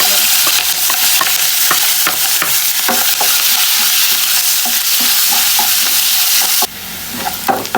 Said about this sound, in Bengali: পেঁয়াজগুলো কিন্তু একদম লালচে করে ভেজে নেওয়া হয়ে গেছে